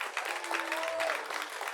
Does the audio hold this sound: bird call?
no